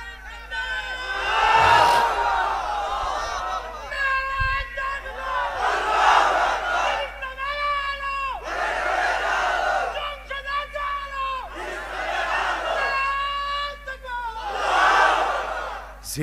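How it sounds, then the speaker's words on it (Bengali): A large sermon crowd at an outdoor religious gathering chants Naraye Takbir in loud, repeated unison waves, about five rising swells that surge and fade in a steady rhythm. "আপনারা নারায়ে তাকবীর এখানে একটু দেন।"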